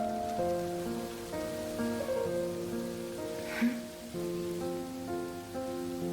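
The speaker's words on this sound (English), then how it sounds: "And then the rain begins." Rain falls in an animated Genshin Impact character teaser, a soft steady patter spread beneath a sustained melancholy musical score that dominates the scene, with no speech.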